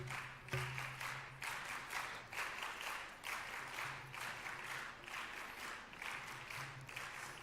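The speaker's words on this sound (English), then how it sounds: "Can we have a big round of applause?" An audience claps at a school investiture ceremony, a moderate, fairly distant round of applause with rhythmic pulses of clapping and a low hum underneath, fading and swelling slightly throughout.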